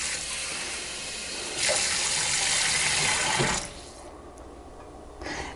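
Half a cup of water poured over soaked quinoa in a kitchen gives a steady splashing pour that starts abruptly, runs for about two seconds and stops, close and clear, with a brief second splash at the end.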